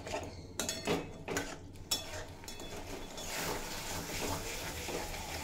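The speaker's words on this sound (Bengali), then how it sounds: "মশলার সাথে পনির 2 মিনিট মতো নাড়াচাড়া করে নিয়েছি।" Fried paneer is stirred into spices in a pan, with a few clattering utensil scrapes at first, then a steady, fuller sizzle as the mixing continues.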